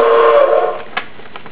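A toy train set's tinny electronic whistle toots briefly, then cuts off, followed by a few soft clicks and small mechanical noises.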